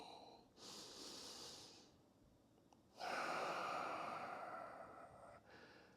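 Close breathing during a standing quad stretch in a mobility flow: a soft inhale, a pause, then a longer, louder exhale tailing off, with no talking.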